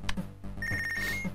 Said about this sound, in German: Und da klingelt auch schon das Telefon.